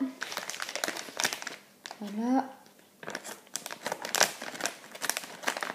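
Scissors snipping and crinkling open a plastic candy packet from a Candysan tasting box, close crackly rustles and cuts with a brief spoken word in between.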